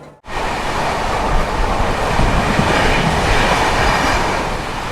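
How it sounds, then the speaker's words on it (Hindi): Janseva Express passenger train pulling into Madhepura station on platform 1, a loud, steady rolling rumble with rail clatter that fills the whole stretch without any voices. "मधेपुरा स्टेशन ट्रेन आई है 1 नंबर पे"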